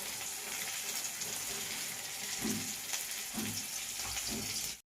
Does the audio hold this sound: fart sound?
no